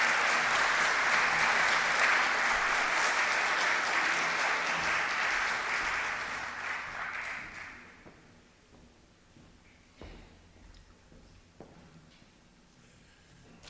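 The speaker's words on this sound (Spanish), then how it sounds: "a quien recibimos con un fuerte aplauso" Loud, sustained audience applause welcomes the rector of the Universidad Autónoma de Chile at a book presentation, holding steady for several seconds before fading into a quieter hall with scattered footsteps and shuffling.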